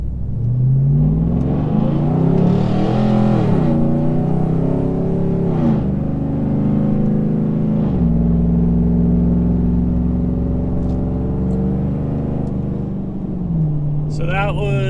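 A truck engine revs at roughly half to three-quarter throttle, a loud steady drone rising and falling in pitch through several pulls over about fifteen seconds.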